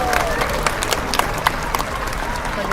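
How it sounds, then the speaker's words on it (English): A crowd applauds at a SeaWorld San Diego show after a killer whale training session, with scattered claps and crowd murmur rising over a noisy outdoor stadium background, with brief sharp individual claps popping out. "Let's give Orchid a big round of applause."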